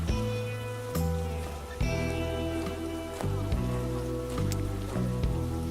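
Steady rain pours in the nighttime city of the game Nighthawks, a dense hiss running throughout beneath loud, sustained music with notes that change every second or so.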